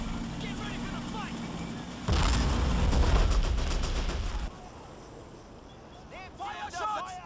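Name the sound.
gunfire in the video game Men of War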